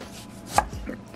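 A knife cuts through limes on a cutting board while preparing phở, giving one sharp, close chop and then a softer follow-up tap in a quiet kitchen.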